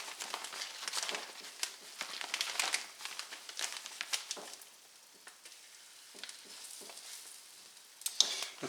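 Flour-coated chicken cutlets for chicken Marsala fry in a pan, giving a steady crackling sizzle with scattered sharp pops and spits that swell and fade over several seconds.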